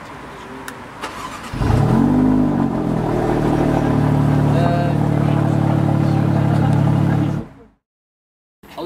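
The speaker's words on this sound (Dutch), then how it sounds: "We gaan kijken of die ook start." A car's engine cranks and catches after a keyless relay attack, then revs loudly and holds a steady high idle for several seconds before cutting off abruptly, with quiet background voices beforehand.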